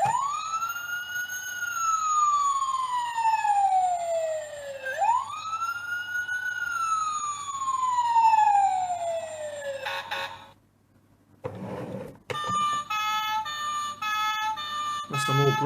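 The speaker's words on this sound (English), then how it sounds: "So we've got some sound effects as well in this if you push this bit." A 2007 Mattel Fisher-Price Little People American fire truck toy plays its electronic siren effect, a loud close wailing tone that rises and falls twice before a short pause and a second, different siren pattern.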